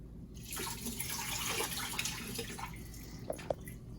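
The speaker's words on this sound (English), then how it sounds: "Let's quickly rinse this before we use it" Spinach being rinsed in water, a soft continuous running and swishing of water under a faucet, quiet and close, ending with a couple of small drips or clinks.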